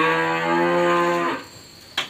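Cattle recovering from lumpy skin disease give a long, loud moo with a steady harmonic tone that lasts over a second and then cuts off, followed by a short sharp knock, with no voices.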